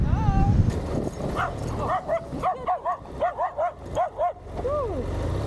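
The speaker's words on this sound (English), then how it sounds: "Oh no, not the doggies." Dogs near a remote Baja beach let out a run of high yips, whimpers and short barks in an uneven series, close and fairly loud, with a person speaking over them.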